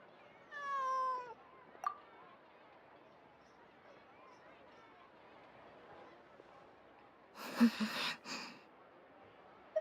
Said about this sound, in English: I believe this cat belongs to me.